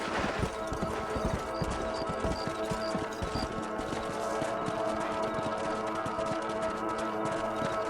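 Steady clip-clopping hooves of horses at a walk in the video game Red Dead Redemption, close and continuous, with a busy game-like soundscape behind them.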